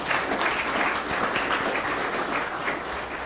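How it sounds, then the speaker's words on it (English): Audience applause at a 2024 art show, a steady dense wash of clapping that fills the whole stretch evenly at a moderate distance, with no voices over it. "Special round of applause for Dave Freemore."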